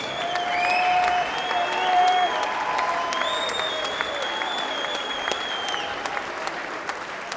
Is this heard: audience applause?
yes